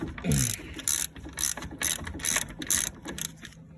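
Ratchet clicking off 13 mm bolts on a Brembo brake caliper of a Chevrolet Cobalt SS, several quick bursts of close, crisp clicks in an uneven rhythm with no voices.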